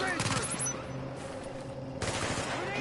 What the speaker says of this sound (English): my turret is also shooting him at the same time, guys. This turret does a lot of damage.